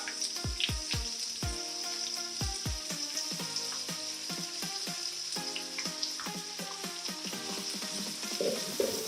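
Sliced onion drops into hot oil in a pan for pasta, setting off a steady crackling sizzle with several sharp clunks and taps of pieces and utensil early on, with no talking.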